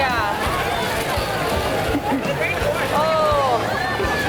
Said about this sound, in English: And a big crowd here.